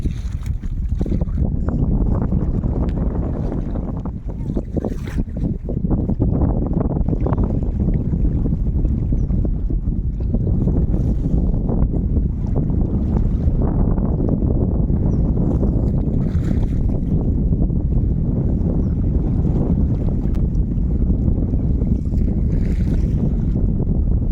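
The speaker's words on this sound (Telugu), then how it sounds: "ఇటు మాత్రం దంచి కొడుతుంది వాన అయితే మామూలు వాన కాదు" Steady, loud roar of heavy wind and rain battering the microphone outdoors over a lake, continuous throughout with gusty rushes and no pauses.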